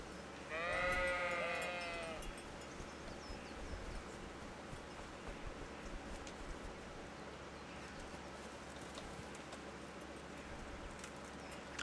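Sheep bleat in the video game Kingdom Come: Deliverance, a short burst of several wavering bleats early on, then fading into a low ambient game backdrop with faint rustling.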